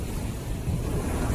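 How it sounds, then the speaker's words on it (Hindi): Sea waves at the Jeddah Corniche at night, a brief, steady rush of surf with wind buffeting the microphone, with no voices. "लहरें काफी आ रही है माशाल्लाह"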